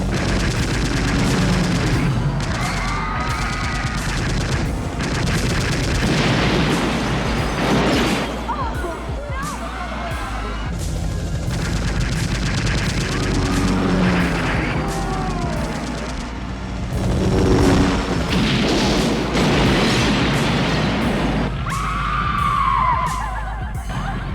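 Sustained automatic gunfire from a helicopter in a film scene, dense bursts rolling on under loud dialogue and radio chatter, with a heavy low rumble of rotor and explosions throughout.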